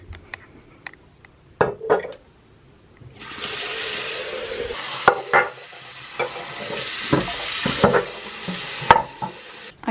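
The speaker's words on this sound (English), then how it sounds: "I give my seed sprouts a quick rinse" Seed sprouts rinsed under a running tap in a kitchen, with a steady splashing water stream after a few clinks of a jar or glass, close and moderately loud with scattered knocks.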